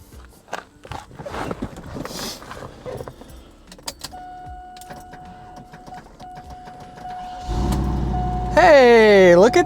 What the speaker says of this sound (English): Let's go ahead and fire this car up.